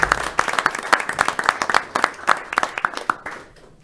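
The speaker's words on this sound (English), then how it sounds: "So if we can give him a round of applause." Audience applauding at a city council meeting, a room of scattered hands clapping irregularly at close range, then thinning out and fading at the end.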